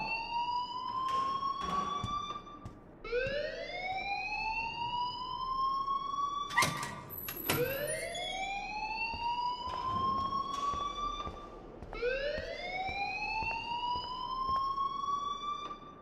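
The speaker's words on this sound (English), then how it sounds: "please turn off that alarm since that's your job" A loud wailing fire alarm in the video game Life Is Strange rises and falls in repeated sweeping cycles, continuous and piercing, with a few sharp clicks and bursts mixed in.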